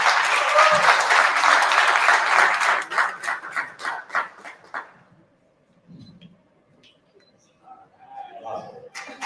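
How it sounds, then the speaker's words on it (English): Audience at a Women's Day event breaks into brisk applause that thins into scattered individual claps and fades to near silence, followed by a few faint sounds and a voice. "A round of applause."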